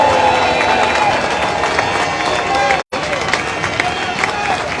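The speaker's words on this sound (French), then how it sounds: "s'il vous plaît, applaudissements pour le grand marin Francis Joyon" A crowd applauds and cheers a famous sailor at the Naye lock in Saint-Malo as boats leave, a dense continuous wash of clapping and crowd noise with voices mixed in, briefly cut out midway.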